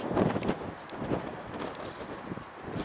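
Steady wind buffeting the microphone, a dull continuous rumble with gusty swells and faint rustling.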